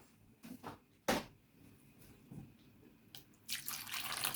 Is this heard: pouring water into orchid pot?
yes